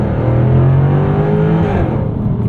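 2023 Jaguar F-Type R sports car with a ZF automatic gearbox, its engine revving close by with a steady throaty drone that climbs in pitch and then drops as a gear changes.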